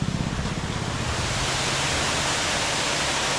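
Water pouring from the gates of Baranti dam into a canal, a loud, steady broadband rush close by with no pauses.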